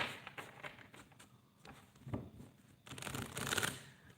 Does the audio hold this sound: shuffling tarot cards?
yes